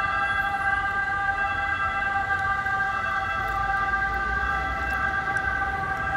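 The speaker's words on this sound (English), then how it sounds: "Here's some police sirens," Police sirens wailing on a rainy street in Rome, a steady continuous multi-tone siren sounding fairly near, over a constant wash of rain and traffic rumble, with no talking.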